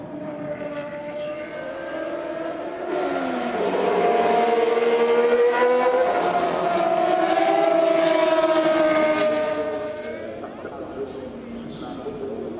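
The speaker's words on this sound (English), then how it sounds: "enjoy some more sounds of these iconic Ferrari Formula One cars" Ferrari Formula One cars race around a circuit at a Ferrari finale event, high-pitched engines screaming loudly and sweeping up in pitch as they pass close by, with a sustained roar lasting several seconds before easing away.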